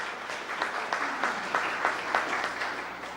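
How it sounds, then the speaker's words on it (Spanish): Audience applause at a university colloquium, a short burst of clapping from a room of listeners at moderate level, steady throughout with no voices over it. "Un aplauso."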